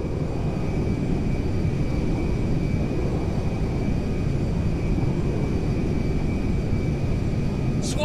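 Meriwether jet coming in to land at Mackenzie Field in Grand Theft Auto V, a steady loud engine roar and rumble that holds evenly throughout.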